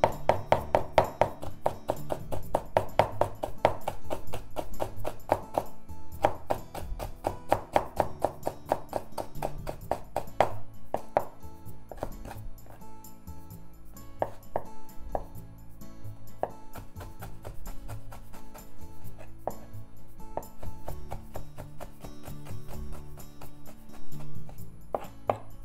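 A knife chops octopus into thin strips on a board, a run of sharp irregular taps, busier early then sparser with gaps, close and fairly quiet with no talk.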